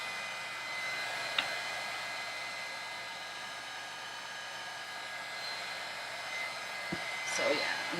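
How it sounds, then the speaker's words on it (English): An electronic heat tool blows hot air around the edge of a Samsung phone screen during a glass repair, giving a steady, fairly quiet hair-dryer-like whoosh with faint clicks and handling noises. "it's an electronic heat tool"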